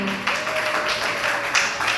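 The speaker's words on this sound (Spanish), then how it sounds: "Miren, démosle un aplauso al hermano Brito." Audience claps in a brief, steady wash of applause lasting about two seconds, with a faint sustained tone running underneath.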